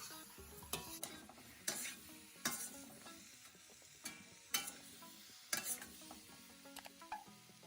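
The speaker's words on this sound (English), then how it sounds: "I'll add in my cauliflower and broccoli and stir everything together" Cauliflower and broccoli get stirred in a pan, with a soft sizzle underneath and sharp clinks of the utensil against the pan coming in regular strokes about once a second, close and fairly quiet.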